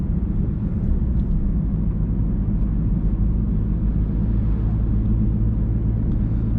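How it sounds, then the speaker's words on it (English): A 2013 Skoda Yeti engine holds a steady, loud, low rumble from inside the car, with no talking. "So yeah, you do need to rev it out."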